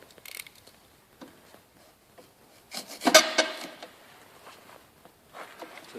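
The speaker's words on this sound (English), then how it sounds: "Just trim the foam off." Foam insulation is trimmed during Stealth Energy roof tile installation, producing faint, brief rasping and rubbing strokes, with one louder scraping cut in the middle and quiet scuffs around it.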